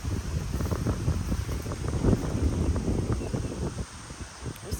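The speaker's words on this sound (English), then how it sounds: "Very windy. It does get windy," Wind gusts across an open farm field, buffeting the microphone in a steady, rough, fluctuating rumble that eases slightly near the end.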